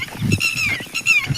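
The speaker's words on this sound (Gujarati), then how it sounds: "જોઈ લ્યો ભાઈ બતક" Ducks by a flooded village pond give several nasal honking calls in close succession, near and fairly loud, with brief gaps between them.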